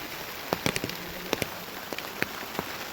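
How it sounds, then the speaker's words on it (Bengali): Scattered raindrops tapping on a surface, irregular light ticks over a steady hiss, with no voices. "বাবা বাইরে কি বৃষ্টি হচ্ছে রে"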